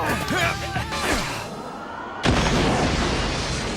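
A sudden loud hand grenade blast in an anime funeral scene bursts in midway, cutting off a busy, shouting-filled scene, followed by a sustained rumbling roar.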